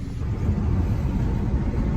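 A Ford Ranger with an engine that cuts out, driving along, heard from inside as a steady low rumble of engine and road noise, with no talk.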